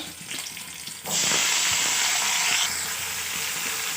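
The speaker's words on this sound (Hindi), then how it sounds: "घी गर्म हो गया, अब इसमें डालेंगे हम हरी मिर्च और अब डाल देंगे हम ये टमाटर" Green chilies and tomatoes drop into hot ghee for fasting-day fried potatoes, and a loud steady sizzle and crackle bursts up suddenly and holds at full strength, close to the pan.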